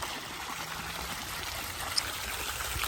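Water splashing and trickling from a small garden fountain at an arboretum, a steady, close, even wash of flowing water with no talking.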